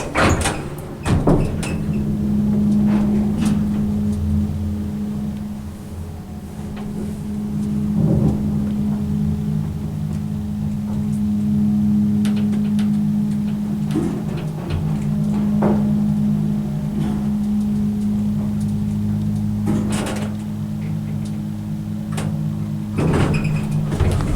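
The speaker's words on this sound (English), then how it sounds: "that motor sounds a lot like the one at Evangeline" Cal-West hydraulic elevator in a Sacramento office building, its motor running with a steady low hum and drone inside the cab, punctuated by clunks and knocks from the car and doors.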